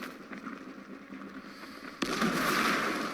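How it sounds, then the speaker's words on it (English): Grenade blasts in the Dying Light video game: a rumbling, crackling burst breaks in sharply near the two-second mark and stays loud and dense, over an earlier stretch of softer, busy game noise. "Throw a grenade here. Make sure that these guys are dead."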